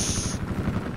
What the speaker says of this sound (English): Chopper engaged.